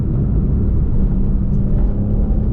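Porsche 911 Carrera 991.1 engine while driving, heard from inside the cabin as a loud, steady low rumble with road noise, continuous and unbroken, no talk.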